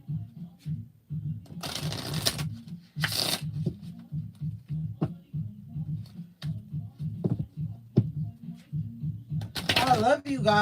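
Oracle cards being shuffled, bursts of papery riffling and clicking taps heard close, with a person's voice murmuring steadily underneath.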